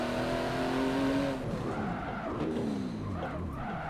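A car brakes hard in the Forza Motorsport 7 racing game, with an engine tone falling away as the tires lock and squeal in wavering screeches, loud and up front, no talk.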